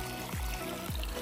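Water spilling and dropping along a field irrigation canal, a steady rushing flow with two deeper gurgling surges, continuous and fairly close.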